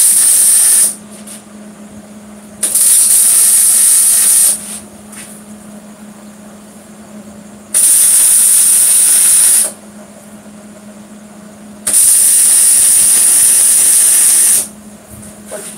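MIG welder running .030 wire in a shop, giving four sustained bursts of steady crackling hiss, each lasting about two seconds with quieter humming gaps between them.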